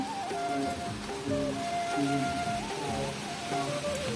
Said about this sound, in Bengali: ঝিরঝির করে বৃষ্টিটা কি সুন্দর পড়ছে তাই না